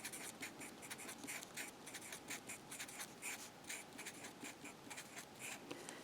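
A pen or marker writing out numbers for a math exponent example: soft, rapid scratching strokes in short bursts, close but faint, with no voices.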